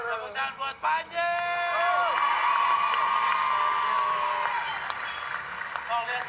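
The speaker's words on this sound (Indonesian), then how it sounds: "Tepuk tangan buat Panji." A crowd applauds and cheers for Panji, with clapping and whoops under loud, excited talking and shouting voices that carry through most of the stretch.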